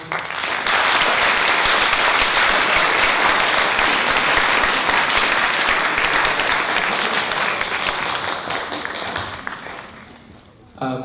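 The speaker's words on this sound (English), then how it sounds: "We give a round of applause" A school audience bursts into loud, sustained applause at a student assembly on volunteerism and entrepreneurship. The clapping holds dense and even for about ten seconds, then thins and fades near the end.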